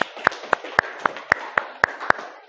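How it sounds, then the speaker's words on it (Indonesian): Classroom students clap for a classmate in a sparse, uneven rhythm of about nine sharp claps over a couple of seconds, heard fairly close in a quiet room. "Tepuk tangan untuk Degita"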